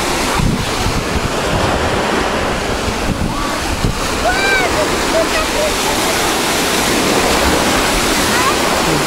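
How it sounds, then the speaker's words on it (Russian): Sea waves crash steadily and loudly against a beach pier on the Black Sea shore at Odessa's Golden Beach, with heavy wind rumble on the microphone throughout. "Смотри, как волны бьются"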